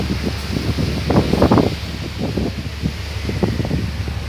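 Steady wind buffeting the microphone aboard a ship, with rustling gusts, a low rumbling roar that swells and fades, no voices.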